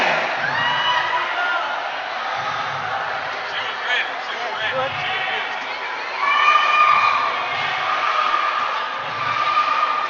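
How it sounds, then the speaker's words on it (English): School teams cheer loudly at a sports opening ceremony, a sustained crowd of young voices shouting and whooping with rhythmic low thumps beneath, swelling briefly near the middle. "Now I would like to hear your team cheer."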